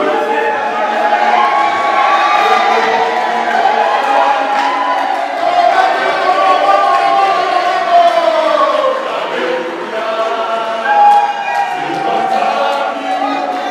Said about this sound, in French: je vous convie à accueillir avec applaudissement